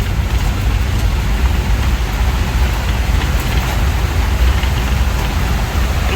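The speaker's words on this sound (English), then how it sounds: "we are right in the middle of a tropical storm. It's pouring out here." Heavy tropical-storm rain pours steadily at Ko Kut, a loud, dense wash of noise with no pauses, like a downpour drumming on surfaces close by.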